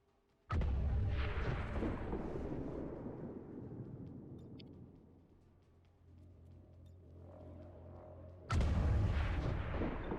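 Two heavy booming blasts of weapon fire in the XCOM 2 Long War of the Chosen game, each loud burst decaying into a long rumbling tail before the next strikes.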